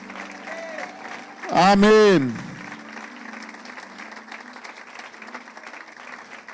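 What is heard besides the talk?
congregation applauding in church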